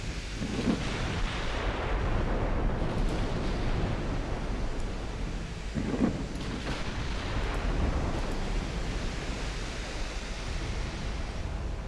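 A battleship blowing up under heavy naval gunfire in the naval warfare game Ultimate Admiral Dreadnoughts: deep, rumbling booms roll over a steady roar of sea-like noise, with two heavier blasts standing out amid the continuous din.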